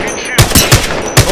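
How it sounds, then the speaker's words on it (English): Gunfire in the battle royale video game Apex Legends, four loud, punchy automatic bursts spaced irregularly over a steady game ambience. "Opening fire."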